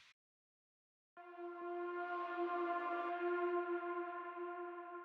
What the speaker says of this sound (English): And now we can check out these horn effects on top of this.